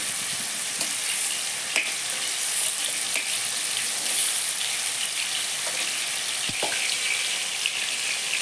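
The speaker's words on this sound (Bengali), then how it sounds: "মাছ বেশিক্ষণ ভাজবেন না ভাজলে মাছটা ছোট হয়ে যায়" Fish frying in a hot pan for a Bengali prawn malai dish, giving a steady, close, continuous sizzle with a few faint clicks of a utensil, no voices.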